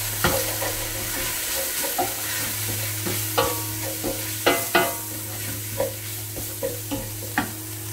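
Spices, curry powder and chipotle chili flakes, are stirred together in a sizzling pan, with a steady low sizzle under repeated sharp scrapes and knocks of a utensil at an uneven, roughly once-per-second rhythm.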